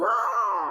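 A voice gives a short, wavering, drawn-out cry in imitation of an eagle, steady and close with no other sounds around it.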